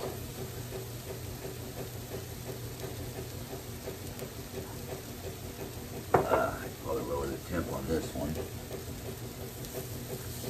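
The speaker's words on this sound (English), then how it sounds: "I let my pan get a little too hot. So that's gonna cook fast." Eggs fry in an overheated pan, a steady hiss and sizzle throughout that grows louder and more crackly partway through.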